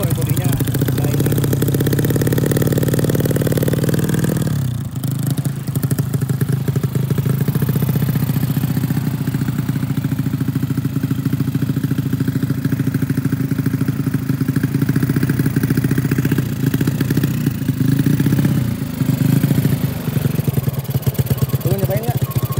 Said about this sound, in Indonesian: Coba digas tipis-tipis saja.